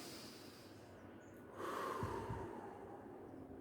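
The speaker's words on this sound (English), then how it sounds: "in through the mouth and out through the mouth" Deliberate breathwork, breathing in and out through the mouth in a class setting; a quiet stretch followed by a louder, rushing breath with a couple of soft snort-like bursts, close and alone.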